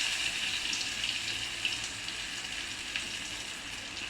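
Onion fritters (peyaju) frying in hot oil in a wok, a steady, even sizzle with a hiss that stays at a constant level throughout, fairly faint and with no talking.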